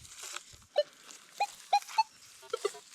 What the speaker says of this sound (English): those low tones coming through? That's the sound of all the iron that's in here.